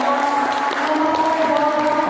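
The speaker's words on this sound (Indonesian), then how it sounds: "beri tepuk tangan untuk kedua calon yang" Steady applause fills a school hall for two candidates at a student council election Q&A, even and continuous throughout the brief stretch.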